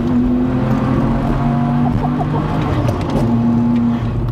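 Manual BMW E92 335i track car making 580 bhp pulls out of corners, a loud continuous engine note with shifting harmonic tones from inside the car and steady road roar throughout.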